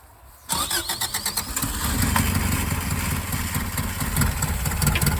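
A 1984 Subaru Brat engine, started after sitting for ten years, cranks in quick rhythmic pulses, catches, and settles into a loud, rough, uneven idle that keeps running.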